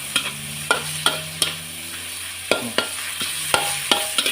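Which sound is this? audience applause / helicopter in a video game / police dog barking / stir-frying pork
stir-frying pork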